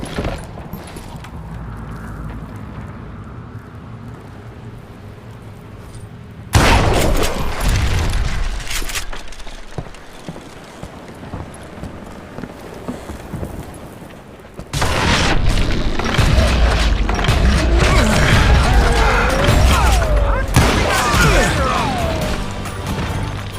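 Dynamite explosions in the Western shooter Call of Juarez Gunslinger: a heavy boom breaks out suddenly, followed by sustained loud crashing and rumbling debris, then a second blast that rolls into a long, dense roar.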